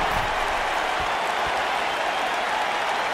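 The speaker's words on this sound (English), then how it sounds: "the crowd's on the edge of their seats" Crowd cheering and applause in the WWE 2K19 wrestling game during a Rob Van Dam versus Tommy Dreamer Impact Wrestling match, a steady dense roar of cheering that holds at one level throughout.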